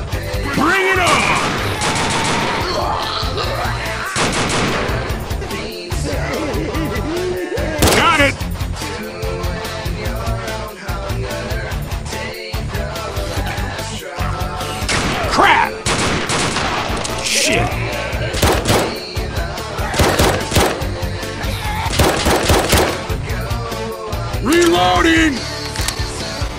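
Sustained full-auto gunfire from a Roblox remake animation of a Left 4 Dead–style zombie game, dense rapid bursts almost nonstop, loud and close, with shouting voices over the shooting.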